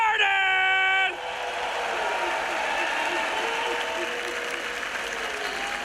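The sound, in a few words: crowd applause in arena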